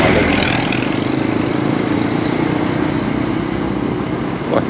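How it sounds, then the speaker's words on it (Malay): Steady, continuous road traffic on a street in the old town of Tanjung Malim, with cars and motorcycles passing close by, a dense, loud engine rumble that never drops away. "Wah, banyak pula kereta."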